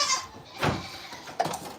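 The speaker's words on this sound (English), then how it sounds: "Now he looks like a crazy goat trying to break in." A goat on a farm, trying to break into a barn, gives two short, fairly close bleats about a second apart against quiet surroundings.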